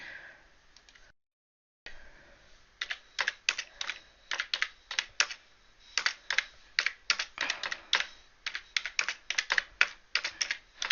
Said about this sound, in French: Vous devez entendre mon clavier